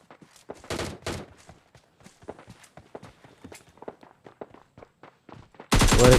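Footsteps patter in a quick, uneven rhythm inside a battle royale video game, with louder bursts early on and a sudden loud blast of gunfire at the very end.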